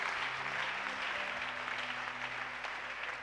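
A church congregation applauds at a sermon, a dense, steady wash of clapping that holds for several seconds, moderately loud and even throughout.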